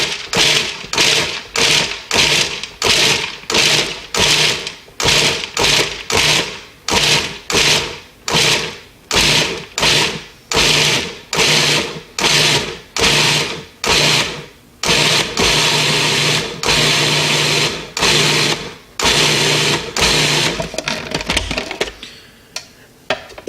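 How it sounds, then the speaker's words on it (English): Food processor pulsing spicy pesto ingredients: about two dozen short, loud whirring bursts in a steady rhythm, then one longer continuous run near the end, with no voices. "I'm going to give it a quick few pulses here"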